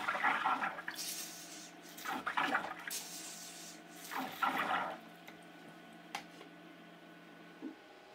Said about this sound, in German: kann der Extruder mit der Spritze schließlich komplett gespült werden.